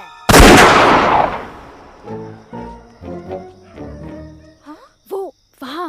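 A single loud, booming gunshot in a Hindi comedy film rings out and decays over about a second, followed by shouting voices and other harsh, tonal sounds.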